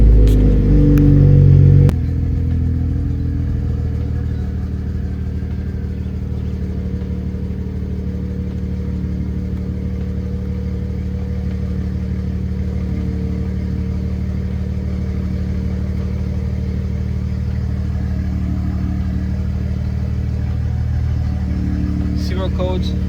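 A BMW F30 engine idles steadily after a Dorch stage 2 high-pressure fuel pump install, starting with a brief louder rev before settling into an even, close, low rumble that runs throughout.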